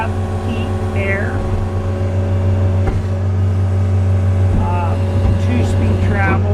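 A 2022 Kubota SSV65 skid steer with cab, heat and air idles with a steady, loud low engine drone, occasional faint mechanical whines rising over the constant hum, and no voices.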